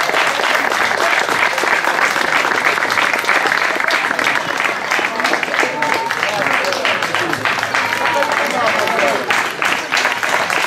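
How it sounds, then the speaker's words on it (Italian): A crowd gives a final round of applause at the close of a slalom motorsport event in Bagnara Calabra, with dense, loud, continuous clapping close by, voices chattering underneath throughout. "l'ultimo applauso e poi tutti congedati"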